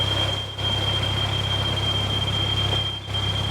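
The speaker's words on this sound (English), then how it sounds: "we just have to put up with the annoying noise and the buzzer" A narrowboat's buzzer alarm gives off a continuous high-pitched electronic whine over a low engine-like hum, with two brief dips in the drone.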